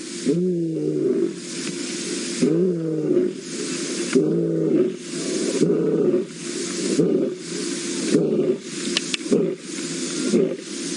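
A wild lioness out on a safari drive gives repeated low, moaning contact calls in rhythmic groaning bursts, loud and close, one after another with hissy breaths between.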